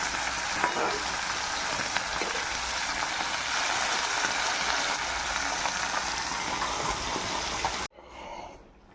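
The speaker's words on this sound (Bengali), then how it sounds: "আর এদিকে দেখো মাছ ভাজাটা করে নিচ্ছি।" Fish frying in a pan with a loud, continuous hissing sizzle and faint crackles close up, lasting several seconds before stopping abruptly into quieter room sound.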